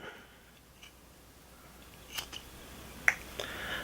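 Leatherman Wave Alpha multitool scissors cutting paracord, giving a few faint, sharp snipping clicks spaced apart in a quiet setting.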